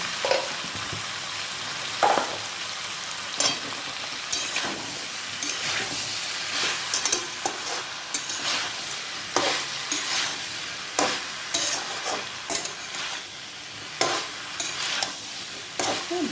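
Vegetables and paneer stir-fried in a pan with a little sugar added, giving a steady loud sizzle broken by repeated scraping and stirring strokes of a spatula, with no talking.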